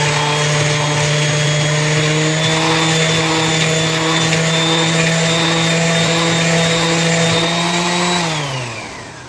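A palm sander smooths down sharp edges with a loud, steady motor whine and buzzing hum that runs continuously, then winds down and stops near the end.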